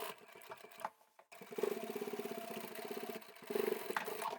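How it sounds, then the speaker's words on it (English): A sewing machine stitches bag fabric in quick, rhythmic runs, close by, pausing briefly near the start before a steady whirring burst of stitching resumes and surges again near the end. "Let's go and sew those together and then we can have a look at the bag."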